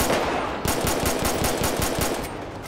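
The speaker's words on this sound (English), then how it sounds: "I'm getting shot at by some other idiots." Automatic gunfire in GTA 5 rattles in a rapid burst of evenly spaced shots, loud and dense over a noisy background, with no talk.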